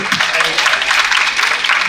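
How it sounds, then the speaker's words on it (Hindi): Audience applause for a guest at a film festival event, a dense, steady wash of clapping across the whole stretch with no pauses. "इनके लिए जोरदार ताली"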